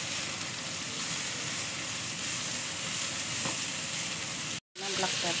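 Noodles with cabbage and soy sauce fry in a hot pan with a loud, steady, close sizzle, then a brief cut and a burst of stirring at the end.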